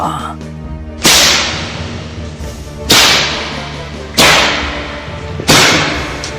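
A whip cracks four times at a steady, unhurried pace, each sharp snap loud and close, with a brief whooshing tail after it.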